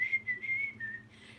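A single steady whistled tone holds in a few sustained phrases with a slight dip in pitch, close and fairly loud, with faint low background noise and no talking.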